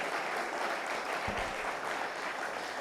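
A church congregation applauds in a steady, continuous wash of clapping, heard at moderate distance with a brief low thump partway through.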